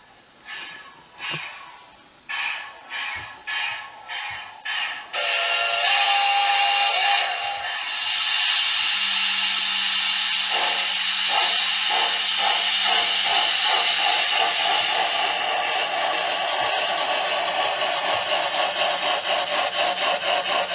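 Steam locomotive 4133, running caboose-up on a model main line, chuffs in rapid puffs that speed up, then gives a long steady steam hiss with a low whistle tone sounding through the middle.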